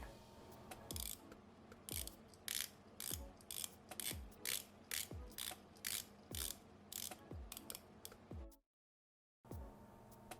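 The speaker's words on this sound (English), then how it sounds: "the bezel is easy to grip, easy to rotate, and sounds very good when you rotate" Addiesdive MY-H5 tuna-style dive watch bezel turned by hand, giving a steady run of crisp, close ratcheting clicks at an even pace, each sharp and distinct, with a brief silent gap near the end before the clicking resumes.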